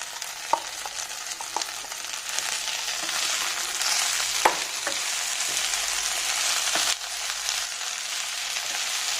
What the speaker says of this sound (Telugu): ఇవి ఒక 5 మినిట్స్ ఫ్రై చేసుకోవాలండి